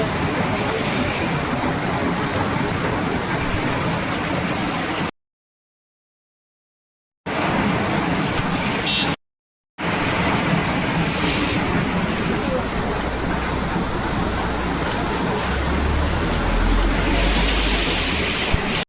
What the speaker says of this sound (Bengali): এখনো বৃষ্টি কমার নাম।